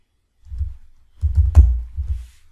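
Short bursts of typing on a computer keyboard, a few soft clustered key presses close by, with no talk over them.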